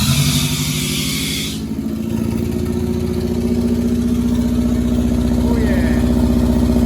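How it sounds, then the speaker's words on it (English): A Honda Civic turbo engine idling close by, its steady rumbling drone lasting throughout, with a brief high hiss at the start and a faint whistle from the turbo spooling later; a voice speaks briefly. "So let me start again. I didn't see the turbo spooling properly."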